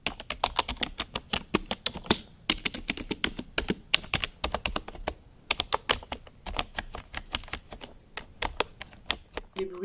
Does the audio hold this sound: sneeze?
no